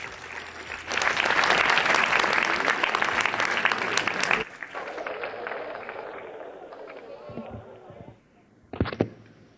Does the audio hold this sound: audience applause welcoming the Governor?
yes